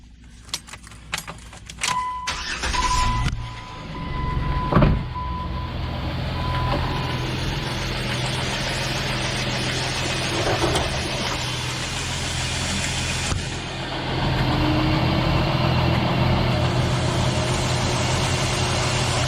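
A 2007 Jeep Wrangler engine cranks and starts, then settles into a steady idle, preceded by a jangle of keys and some clicks. The engine note rises near the end as the air-conditioning clutch engages.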